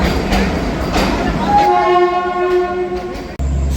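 At a railway station in Jaipur, a train's horn sounds with a steady tonal blast over loud rumbling platform and rail noise, followed by a brief clatter near the end.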